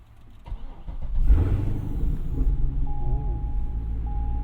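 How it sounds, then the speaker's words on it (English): A C6 Corvette Z06 with a Corsa exhaust sits in neutral, its V8 rising to a loud, deep idle and then holding a steady rumble, with a faint electronic chime near the end. "put the clutch in, put it in neutral, and listen to that Corsa exhaust."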